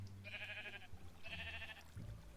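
Sheep in the Minecraft video game bleating twice in short, quavering calls, moderately close, over a low background hum.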